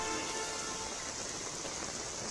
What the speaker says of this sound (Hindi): कई इलाकों में तेज बारिश हो रही है